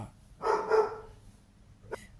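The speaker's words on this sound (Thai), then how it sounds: "ก็ขออภัยเสียงรบกวนมาเห่าด้วยแล้วกันเนาะ" A dog barks nearby in a couple of quick bursts early on, followed by a fainter short yip near the end, in an otherwise quiet indoor space.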